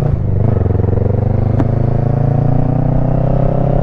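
A Kawasaki Versys 650 with a modified Shinko front tire rides at speed on gravel: a close, steady engine drone with a throbbing pulse, under continuous wind and crunching road noise, with no talking.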